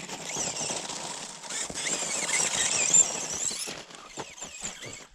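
A dune buggy revs hard through a burnout, its engine whining and tires squealing continuously at close range, with the pitch climbing and surging before easing off near the end.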